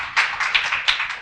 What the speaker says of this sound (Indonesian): Berikan tepuk tangan terbaik